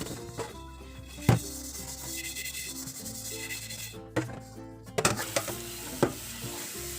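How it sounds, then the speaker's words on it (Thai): Scrubbing and scraping steel wool and tamarind against a blackened metal wok, irregular strokes with occasional sharp clanks, close by with no talking. "เราก็เอา ซันลายฝอยขัดหม้อแล้วก็ มะขามเปียกมาขัดถูอีกรอบหนึ่งค่ะ"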